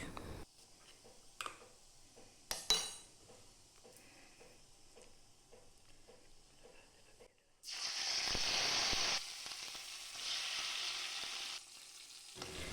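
Banana stem paste, added to oil with reddened chillies, hits the pan with a bright, loud sizzle and frying hiss that swells and holds before easing; earlier comes quieter kitchen clatter with a few sharp clicks.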